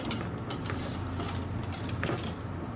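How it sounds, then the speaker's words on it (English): Chopped pistachios stirred into a Lebanese booza ice cream mixture with a utensil, giving soft scraping and light clinks against the bowl, steady and close, with no talking. "We'll stir that in."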